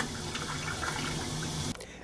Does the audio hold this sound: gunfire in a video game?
no